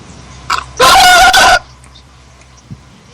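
A pet raptor lets out one loud, harsh, crowing call of under a second, preceded by a short chirp and followed by a faint peep, close by in an otherwise quiet room.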